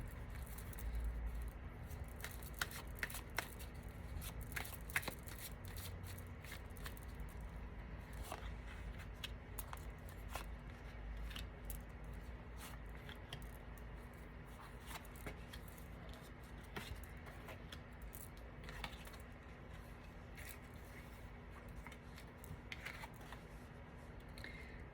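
Tarot cards being shuffled and drawn, with a dense run of soft papery riffles, flicks and taps going on steadily and close by over a low constant hum, with no talking.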